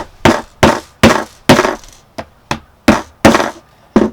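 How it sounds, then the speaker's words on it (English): A hammer taps repeatedly on wood, about ten sharp strikes in a steady rhythm, some lighter than others, close and loud. "Then we're going to tap it with the hammer."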